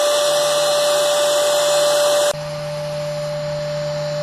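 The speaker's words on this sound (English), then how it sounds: "Okay, so I think I got several bees in there" A vacuum cleaner's motor drones loud and close while sucking up bees, then drops abruptly to a lower, steadier whine about halfway through.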